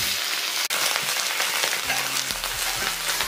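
Freshly molted cicada nymphs deep-frying in oil give off a steady, dense sizzle and crackle. The sound is close and continuous, with low clatters of a pan or utensil partway through and no voices.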